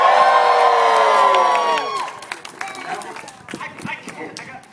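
A group of people bursts into a loud, whooping shout of cheering that holds for about two seconds, then breaks into scattered voices and lighter chatter.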